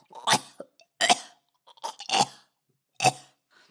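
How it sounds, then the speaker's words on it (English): Four harsh, wet hacking coughs at close range, spaced about a second apart with brief pauses between them. "A grotesque, wet, hacking sound erupted from his lungs."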